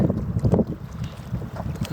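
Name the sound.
strong wind at a lake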